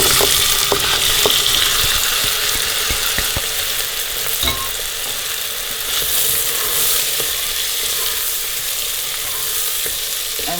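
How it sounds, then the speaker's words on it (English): Onions fry in hot oil, a steady close crackling sizzle with scattered sharp pops and occasional clinks of stirring, with no voices over it. "Now we're going to fry the onions till they're nice and brown"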